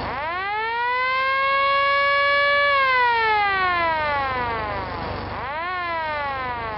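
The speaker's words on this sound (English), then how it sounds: "hit the siren" A loud siren on a homemade half-track tractor wails, rising and holding before sliding down, then starting to climb again in a long sweeping tone.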